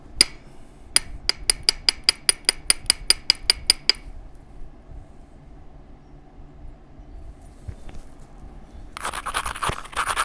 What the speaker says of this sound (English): I'm gonna trim this tip off because we don't need any of that.